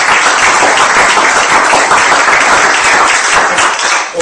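A seated audience gives presenters a round of applause at a course-design session, loud sustained clapping from many hands that holds steady and tapers off at the very end.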